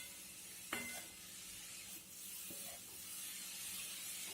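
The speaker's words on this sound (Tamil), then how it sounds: "இது இப்போ நெய்யில் வணக்கிண்டாச்சு." Coarsely grated carrot sautés in ghee with a steady, quiet sizzle and hiss, and a utensil stirs it with a couple of brief scrapes and knocks as carrot halwa cooks.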